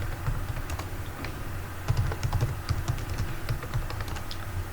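Steady typing on a computer keyboard, close and fairly quiet, with irregular clacking keystrokes and a few heavier key presses.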